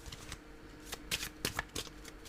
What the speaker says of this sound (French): Donc, je vais mélanger et je vais vous transmettre votre message.